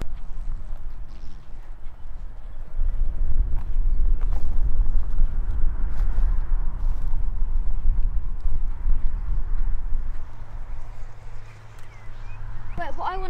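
Rhythmic hoofbeats of a horse moving under a rider, steady thuds with background noise and occasional voices.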